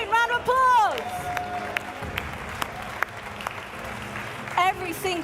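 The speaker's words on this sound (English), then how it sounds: "Round of applause." Audience applause with scattered claps and cheers rises at an ESL R1 esports racing championship event, fairly faint beneath a presenter's voice that talks over the crowd at the start and end.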